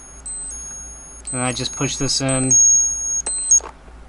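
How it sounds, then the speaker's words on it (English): A 1994 Seiko two-tone chronograph wristwatch with a 7T32 mecha-quartz movement sounds its alarm in high, thin, rapid beeps that start, pause and resume close up, while someone talks briefly over part of it. "it has the alarm set, so it should go off"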